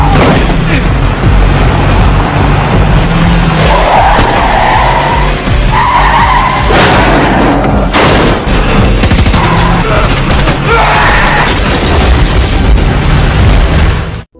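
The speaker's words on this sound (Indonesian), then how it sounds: "anak buah Hagen yang terus berusaha menghentikannya dengan melepaskan beberapa tembakan" Gunmen fire at a fleeing car during a film chase. Loud, scattered gunshots crack over continuous engine roar and screeching, skidding tires for about fourteen seconds, forming a dense, chaotic action soundtrack.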